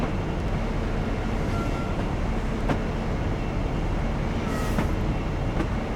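A train rounds tight curves in the Train Simulator Classic game, a steady loud rolling rumble with faint clicks and squeals running throughout, no voices.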